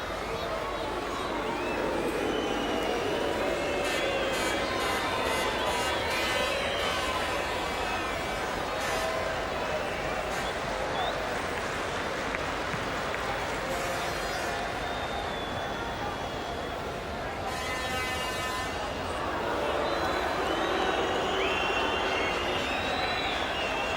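Large football crowd at Wembley Stadium during the 1985 England v Turkey World Cup qualifier, a steady broad roar of many voices filling the whole stretch, swelling slightly near the end, with a commentator speaking over it.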